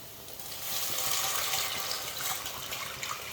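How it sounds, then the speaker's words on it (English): Vegetable stock poured into a cooking pot over garlic, a steady soft liquid splash lasting a few seconds, fairly quiet with no talking. "I'm just going to add in the vegetable stock"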